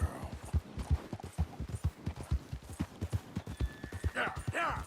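Horse hooves in Red Dead Redemption 2 clip-clop in a fast, even rhythm close by, with a voice and a brief whinny-like sound near the end.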